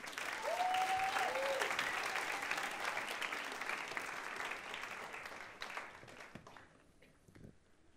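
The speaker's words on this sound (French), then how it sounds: "Applaudissez-vous, les amis." Crowd at an evening gathering applauding themselves, a full sustained wash of clapping and faint cheering with a brief whistle-like cry early on, tapering off toward the end.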